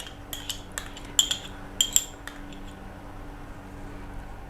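Mutton and yogurt are stirred together in a pot for rogan josh, with a metal spoon clinking and scraping against the pot in a few bright irregular knocks that cluster early, then quiet kitchen background.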